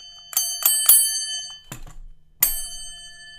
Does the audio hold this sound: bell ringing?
yes